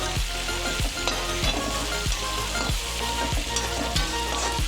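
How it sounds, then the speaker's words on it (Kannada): Curry leaves and onion frying in a pan, a loud continuous sizzle with the occasional scrape of stirring up close. "ಕರಿಬೇವು ಹಾಕಿ ಚೆನ್ನಾಗಿ ಫ್ರೈ ಮಾಡ್ಕೊಬೇಕು"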